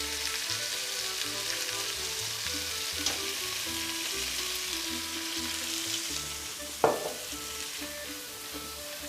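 Pork trotters fry in a pan with a steady, close hiss of sizzling fat throughout, broken by a sharp utensil knock near the end.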